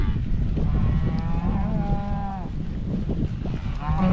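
Cattle are moved into a fresh patch of grass in a rotational grazing field, with loud, close, drawn-out moos rising over steady outdoor noise.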